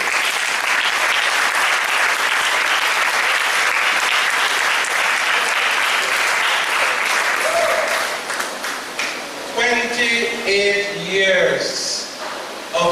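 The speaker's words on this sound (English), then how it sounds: "let us once again applaud you" Audience at a school retirement function applauds loudly and steadily for a long stretch, the clapping thinning toward the end as voices and talk rise over it.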